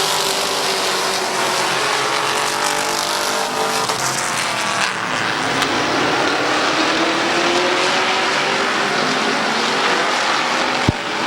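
Race cars roaring around Midvale Speedway, a loud continuous engine drone with rising and falling pitch as cars pass close by, sustained throughout with no break.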